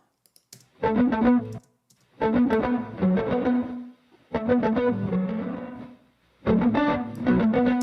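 Electric guitar run through a delay effect with a washy tail, played in four bursts of rapid chopped, rhythmic notes separated by short silences, fairly loud and alone with no talking.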